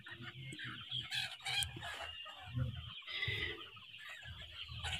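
Fayoumi chickens on a small farm cluck and chatter in repeated short bursts at moderate distance, with faint background noise and no clear talk.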